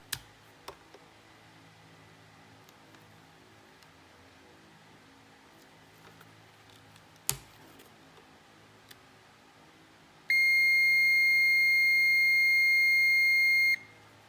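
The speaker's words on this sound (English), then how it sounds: "A sound from the continuity meter indicates that there is a continuous path for electricity" A digital multimeter on continuity test gives one sustained high electronic beep lasting about three seconds when its two probes are shorted together, following quiet clicks of handling.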